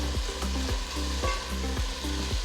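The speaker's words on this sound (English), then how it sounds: "Saute until the onions are slightly golden in color." Onions and potato sautéing in a pan, a steady close sizzle with a regular rhythm of spatula strokes scraping through, about three a second, and no talking.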